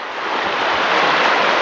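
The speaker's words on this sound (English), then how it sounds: "Those are the rapids right there." Creek rapids at night rush in a loud, steady roar of broadband water noise that builds slightly and holds without a break, with no voices.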